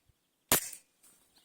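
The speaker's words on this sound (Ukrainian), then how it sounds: "Також два постріла." An IZh-53M air pistol fires one sharp, loud shot that snaps and decays over a fraction of a second, followed by a softer, shorter click-like report.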